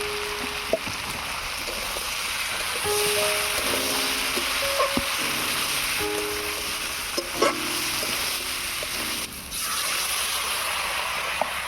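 Ground turmeric, cumin, coriander and chili with green chilies stir-fry in a pan for a bitter gourd dish, giving a steady sizzle with scattered utensil scrapes and taps against the pan.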